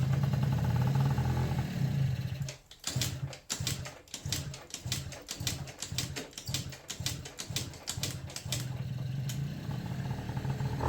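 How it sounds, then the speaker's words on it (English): A Yamaha Slider scooter engine with a freshly refitted carburetor and emptied float bowl: a low steady hum, then a run of rhythmic pounding strokes and sputters as it is kicked and catches, settling back into a steady idle. "Now we just need to get the bike started and go out for a test ride."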